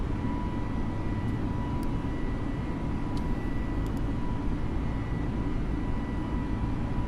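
Airliner engines roar at takeoff in Microsoft Flight Simulator on a flight from Mumbai to Ahmedabad, holding a steady, loud broadband rush with a faint tonal whine on top and no voices.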